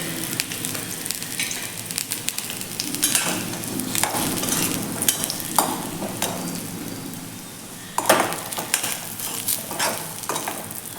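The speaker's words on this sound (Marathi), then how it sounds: "आता हा लसूण भाजत असताना यामध्ये आपल्याला खोबरं देखील भाजून घ्यायचं आहे हे खोबरं देखील मी यामध्ये घालून घेते" Dried coconut and garlic roast in a pan on medium heat, giving a steady crackling sizzle broken by repeated scrapes and stirs of a spoon against the pan, close and fairly loud with no voices.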